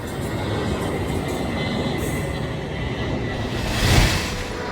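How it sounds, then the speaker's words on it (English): A VRE commuter train bound for Fredericksburg approaches a rail park near Reagan National Airport, a steady broad rumble and rush of wheels on track that swells slightly as it nears. "a VRE bound for Fredericksburg approaches the park"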